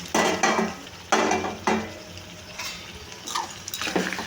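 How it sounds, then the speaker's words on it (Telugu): Cooked goat head meat curry stirred into tomatoes in a pan, with spoon scrapes and clanks against the metal coming in several distinct bursts over a low, steady sizzle, close and fairly loud. "ఈ కూరను అయితే ఇందులో వేసేసుకుంటున్నాను నేను."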